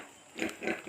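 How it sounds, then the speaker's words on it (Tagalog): A pig grunting in short, low, rough bursts close by, with no talking over it. "Bakit may baboy dito?"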